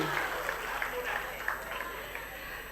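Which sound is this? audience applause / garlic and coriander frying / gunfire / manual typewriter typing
audience applause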